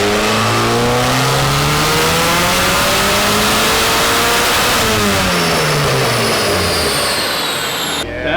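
A Volkswagen-engine-swapped BMW E36 revving hard on a dyno, loud and close, with engine pitch sweeping up and down through repeated pulls before cutting off at the end.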